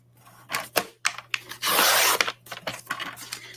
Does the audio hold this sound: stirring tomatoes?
no